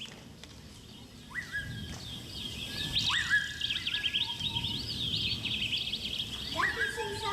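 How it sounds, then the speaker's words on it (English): Birds sing in trees with bright chirps and short whistled notes at intervals, over a soft background of rustling and low murmur. "The birds sat on the trees and sang so sweetly"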